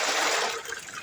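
Water pours into a basin for rinsing tubifex worms, a short, loud, close splashing rush that tapers off into a lighter trickle within about a second.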